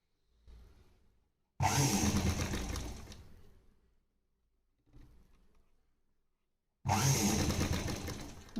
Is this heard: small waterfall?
no